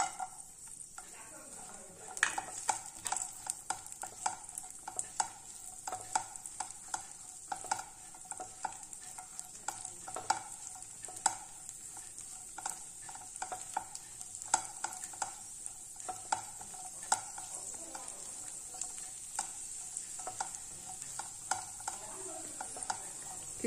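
Cashews and raisins fry in a pan with a steady crackling sizzle, punctuated by frequent scraping stirs of a spoon throughout, close and moderately loud with no talking.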